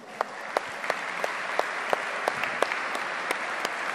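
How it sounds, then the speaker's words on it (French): A gathering of tennis teachers applauds players with steady, moderately loud clapping, accented by a few sharper individual claps at irregular intervals. "Et je crois qu'on peut les applaudir."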